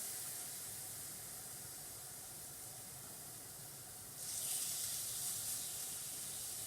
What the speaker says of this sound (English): we're going to start hitting this fish in. Keep in mind, kind of start with the thicker bits first. That's the noise that we want to hear.